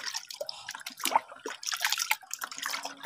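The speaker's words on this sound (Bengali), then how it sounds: "এখন হাত দিয়ে ভালো করে মিক্স করে নিতে হবে।" Urea molasses liquid being mixed by hand in a container, giving irregular wet sloshes, drips and squelches at close range with no talking.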